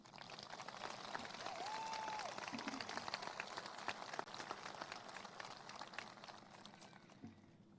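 Crowd applause at a 2022 high school graduation ceremony, a dense, steady wash of clapping from a large audience that holds for several seconds before tapering off.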